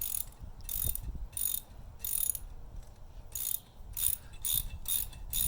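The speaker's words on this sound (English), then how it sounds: "you actually have to get your socket wrench to get them through and just twist them through" A socket wrench ratchets bolts through a sprinkler fitting, making bursts of quick metallic clicking in short repeated strokes with brief pauses between, close and moderately loud, with no talk.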